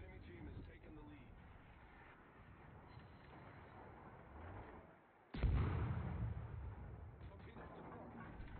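Heavy naval guns boom in a warship video game, a single loud blast landing midway and standing out above a steady wash of battle noise and rumble.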